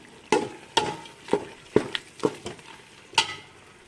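Tomatoes with masala sizzle and fry in a pan while a spoon stirs and scrapes them in several distinct strokes, close up, with no talking.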